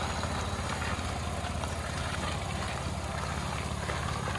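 A 2015 Nissan Altima S engine idles steadily, a low, even rumble holding constant throughout with no talking over it.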